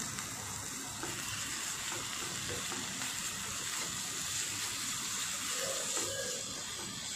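Blended puree of small tomatoes fries in a pan for spicy shev bhaji, a soft, even sizzle that holds steady throughout with no voices over it.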